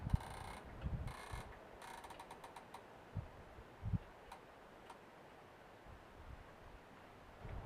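Rifle scope turret on a DNT 7-35 being dialed up, giving a few faint, sharp mechanical clicks in short bursts against a quiet background, with small taps and handling noises between them.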